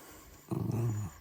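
An old dog lets out a short, low growl of about half a second, close by, after a moment of quiet.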